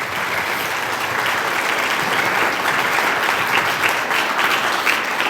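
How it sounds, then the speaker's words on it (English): A school assembly crowd gives a big, continuous round of applause for student government representatives, loud dense clapping that holds steady throughout without any talking. "Let's give them another very big round of applause"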